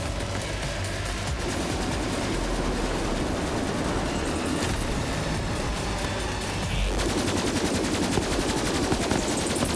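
A high-damage pistol in Borderlands 3 fires in a dense, continuous stream of loud shots, layered with other gunfire and combat noise throughout.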